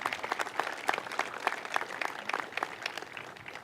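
Steady applause from a crowd at a Purple Line groundbreaking, many hands clapping at a moderate distance, continuous and even throughout with no voices on top.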